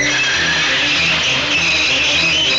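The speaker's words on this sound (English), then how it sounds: "His brakes screeched." A steam engine's brakes screech as it tries to stop before coaches fouling the points, a loud, sustained, high metallic squeal held for a couple of seconds without pause.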